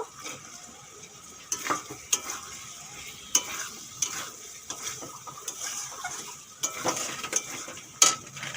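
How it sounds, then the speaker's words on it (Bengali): Fried potatoes, carrots and green peas being stirred into masala for an aloo paneer curry: repeated spatula scrapes and metal clinks against the pan over a soft sizzle, irregular and close. "এখন দিয়ে দেব ভেজে রাখা আলু আর গাজর আর গ্রিন মটরগুলো দিয়ে দেব"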